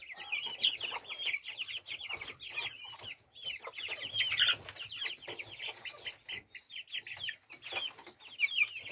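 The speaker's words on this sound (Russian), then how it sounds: "Такие вот классные цыплятки." Young Brahma chicks kept in a space above quail cages cluck and peep in quick, overlapping bursts, close and fairly soft, with the chatter rising and falling continuously.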